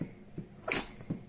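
A dog gives a single sharp sneeze in a kitchen, close and fairly quiet, framed by soft snuffling breaths before and after.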